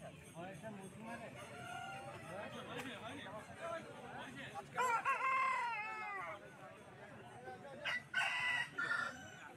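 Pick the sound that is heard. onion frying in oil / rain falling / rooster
rooster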